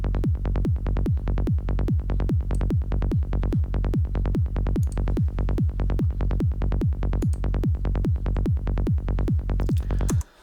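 A psytrance kick drum built with the ES2 synth in Logic Pro X thumps in a steady, fast four-on-the-floor pattern, each deep punchy hit followed by a rolling bass pulse, repeating loudly for about ten seconds before stopping abruptly.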